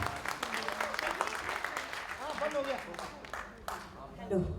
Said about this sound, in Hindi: जोरदार तालियां उनके लिए होनी चाहिए।